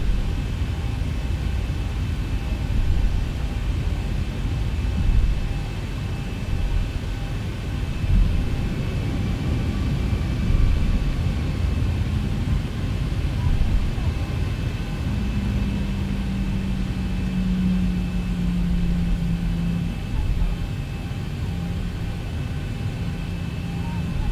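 A Boeing 737-800 taxis to a stand in the X-Plane 11 flight simulator, its engines giving a steady, loud whine and rumble at idle throughout, with a brief low tone rising partway through.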